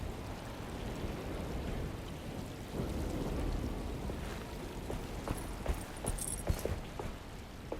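Steady rain with low thunder rumbling through a storm in the game Alone in the Dark, a continuous wash of downpour with sharper spatters and cracks toward the end, no talking.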